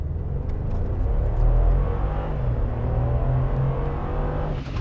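A 2017 Mercedes G550 4x4 Squared with its twin-turbo V8 pulls hard under acceleration, a loud, deep engine rumble surging steadily for several seconds with no one talking.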